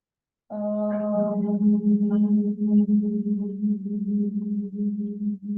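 A group chants a sustained Om at the close of a yoga flow practice, one long, steady, resonant hum that starts after a short silence and holds to the end.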